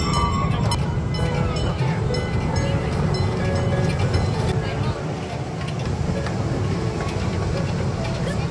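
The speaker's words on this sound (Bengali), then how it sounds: "চলো ফাইনালি ট্রেন ছেড়েছে" A toy train carries riders around a park in Canada on a summer beach day, its steady rumble and rattling carriages running continuously. People talk nearby throughout the ride.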